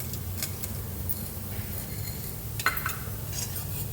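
Chana dal, urad dal and mustard seeds frying in oil, a low, steady sizzle with a few metallic clinks of a spoon against the pan, close by.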